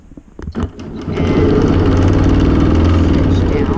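A sewing machine stitching along a quilting ruler starts after a few clicks and handling sounds, then runs in a loud, steady, close mechanical whir to the end.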